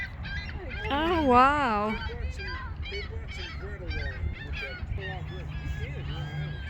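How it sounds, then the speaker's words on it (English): Hungry seagulls calling over a lake, a loud wavering cry near the start followed by more scattered calls, with people talking and exclaiming throughout. "Yeah, seagulls, yeah. Especially the seagulls."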